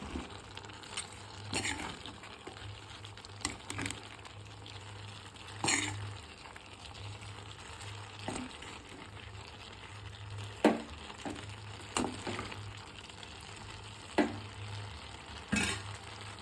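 Cabbage stir-fry being stirred in a frying pan, a steady low sizzle with close scraping strokes and occasional sharp clinks of the spoon against the pan.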